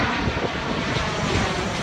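A fixed-wing airplane passes overhead, its engine drone a steady, loud broadband roar that holds level for the full two seconds with no voices over it.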